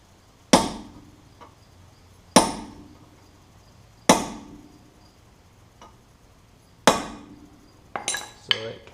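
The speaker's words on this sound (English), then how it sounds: "Just hammer that little dimple back in so it can't come loose." A hammer and punch strike the axle nut dimple on a 2005 Honda Accord front hub, four sharp, ringing metallic blows a couple of seconds apart, followed by a quick cluster of lighter taps, with no talk.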